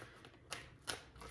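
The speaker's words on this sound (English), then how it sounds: "now I'm just hand shuffling until we get some energy going." A deck of tarot cards is hand shuffled in a quiet room, giving soft papery riffling with two sharper card snaps standing out, close and faint, with no talking.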